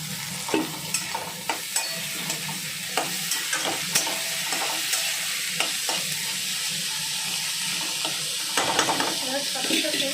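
Capsicum frying with dalia pulao in a pan, a continuous close sizzle punctuated by regular scraping stirs of a spatula, steady and fairly loud without speech.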